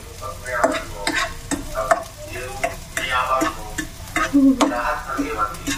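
Chopped onion and garlic frying in a pan, with a utensil scraping and stirring in steady irregular strokes over a constant soft sizzle, close and fairly loud, while a voice speaks briefly.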